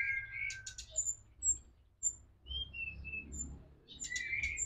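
A small songbird chirps and whistles in short, high notes, scattered across the clip over a low background rumble.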